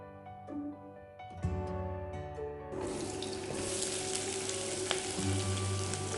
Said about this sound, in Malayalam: പാൻ ചൂടാക്കി ഓയിൽ ഒഴിച്ചു കൊടുത്ത് സവാള, പച്ചമുളക് ഇതെല്ലാം നന്നായിട്ട് വഴറ്റിയെടുക്കാം